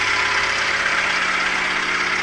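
Farm tractor engine idling nearby, a steady, continuous mechanical hum with an even low knock and broad hiss, unchanging throughout.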